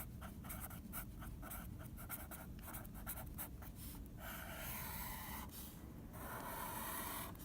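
Close, scratchy strokes of writing out a statement-and-reason proof chart for an intro geometry lesson, quick and rhythmic at first, then a softer rubbing stretch, with no voices.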